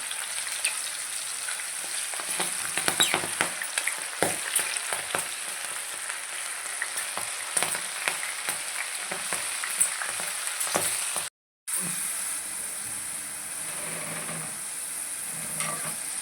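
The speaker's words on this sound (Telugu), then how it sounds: "ఆయిల్ వేడెక్కాలి. Crispy corn వేసేసుకుందామండి." Crispy sweet corn kernels frying in hot oil, a steady bright sizzle running throughout with scattered crackles and pops, one brief dropout near the end, no voices.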